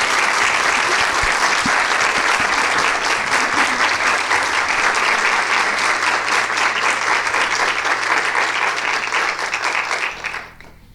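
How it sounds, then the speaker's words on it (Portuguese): An audience at a Women's Day special program claps for a male nurse in loud, dense, sustained applause. The clapping continues steadily for about ten seconds, then quickly fades out. "Um forte aplauso para o enfermeiro Miguel Gomes"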